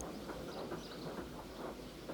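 An animated steam engine train rolls steadily along rails, a continuous rhythmic clickety-clack with rumbling, loud and close throughout.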